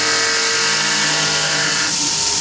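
A Tormach PCNC 1100 CNC mill cuts with its spindle turning at 2,800 RPM, giving a steady, loud machining whine with dense tonal hum that holds through the whole stretch, with no voices.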